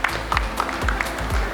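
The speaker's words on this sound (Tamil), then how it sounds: "ஒரு நல்ல அரங்கம் நிறைந்த கைத்தட்டல் கொடுங்க." A full hall at a college pre-release film event in Tiruppur breaks into applause, with a dense clatter of clapping and crowd noise at moderate volume, and some speech faintly mixed in.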